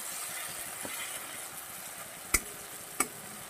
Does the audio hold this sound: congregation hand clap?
no